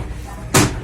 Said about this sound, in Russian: Располагайтесь поудобнее, двери закрываются.